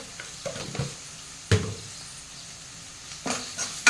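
Ground coriander and cumin being stirred into frying potatoes in a pan, with scraping spoon strokes in short bursts over a light sizzle, fairly close.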